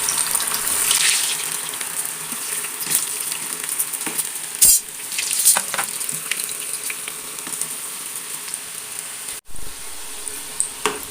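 Fish balls deep-frying in hot oil over a medium flame give a continuous crackling sizzle, with a few sharp pops and bursts over the steady fizz and no talking.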